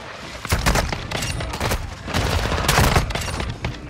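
Repeated blasts from a KV Broadside shotgun in Modern Warfare 2, several loud, sharp shots in quick succession over busy game noise, with no talking.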